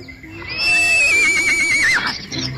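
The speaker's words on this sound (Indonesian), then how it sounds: "Kuda." A horse gives a single loud, high whinny that wavers and trails off, close by.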